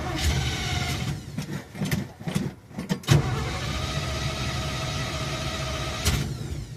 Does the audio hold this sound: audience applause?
no